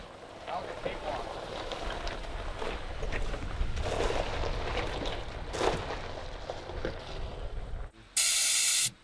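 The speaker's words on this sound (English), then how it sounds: "That is full release of all of the air coming out as fast as possible." Air rushes out of an off-road vehicle tire being aired down in the Mojave Desert, a loud sustained hiss with fluctuating bursts, followed by a brief very bright high blast of release near the end.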